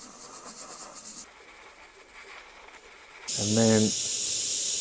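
An airbrush spraying paint while dusting a landscape painting, a soft airy hiss that cuts off partway through, then a brief voice and a louder, brighter spray burst near the end.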